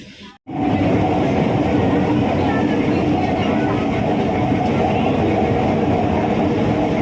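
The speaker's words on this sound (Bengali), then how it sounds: "ট্রেন ঢুকে গেছে" A train pulling into Chandpara station, a loud continuous rumble and rolling rattle of carriages that starts abruptly after a brief quiet moment and holds steady throughout, close by.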